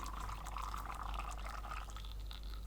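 Water pours steadily into an OXO Rapid Brewer over ground coffee, a continuous close splashing trickle with no voices.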